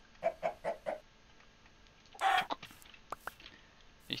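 A Minecraft chicken clucking: a quick run of four short clucks, then a louder squawk and a few faint clicks, with no talk over it.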